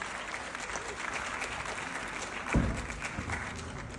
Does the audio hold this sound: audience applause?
yes